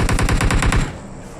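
Gunfire in the battle-royale shooter PUBG: a loud, dense burst of rapid automatic shots rattling for under a second, then trailing off into a fading echo, with no talking.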